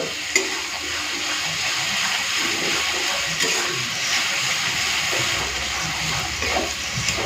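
Ginger and garlic fry in a pan with a steady, bright sizzle and occasional stirring scrapes, continuous and close for several seconds, no voices.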